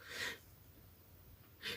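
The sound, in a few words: sneeze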